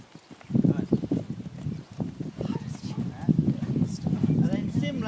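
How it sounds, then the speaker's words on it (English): Hoofbeats of a cantering horse thud in a quick repeating rhythm close by, with soft rustling around them and a voice talking over parts of it. "let's pick up the canter"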